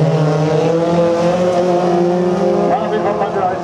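Autocross race car in a class 5 final at Hoope, engine held loud and steady at full throttle with harmonic drone throughout, no letup across the short burst.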